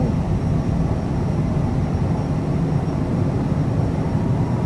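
Citation CJ4 business jet in Microsoft Flight Simulator during takeoff, a steady loud low engine roar that holds constant throughout with no voices.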